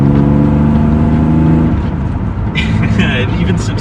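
Pontiac Fiero engine with the catalytic converter removed revving inside the car, a loud droning hum that drops off partway through, with a person talking over it.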